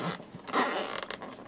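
Zipper pulled open on the travel case of Panasonic RP-HC800 noise-cancelling headphones, a quick close rasping zip in a couple of short bursts.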